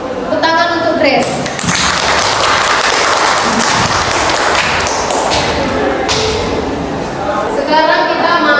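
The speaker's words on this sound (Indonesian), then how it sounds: "Tepuk tangan untuk Grace." A burst of applause from a group, steady clapping that fills several seconds, with a voice briefly heard before and after.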